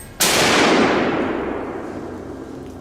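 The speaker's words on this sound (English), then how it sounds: "I raised my gun, eyes locked in, ready to fire at any moment." A single loud gunshot fired at a wild boar during a wheat harvest, a sharp close crack followed by a long fading echo over nearly three seconds.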